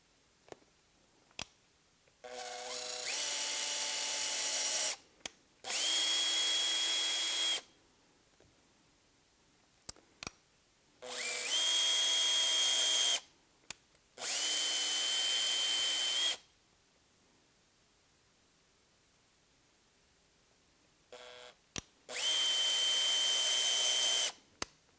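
A power drill drives screws into bracket holes on a studio reformer in five separate bursts of steady whirring, each a few seconds long, with pauses and small clicks between them.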